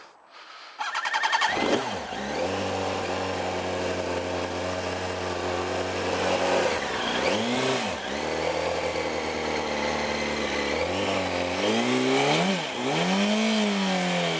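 A Yamaha R1 motorcycle engine runs loud and close after a new clutch install, its steady idle dipping sharply three times as the clutch bites and the revs bog toward a stall before recovering.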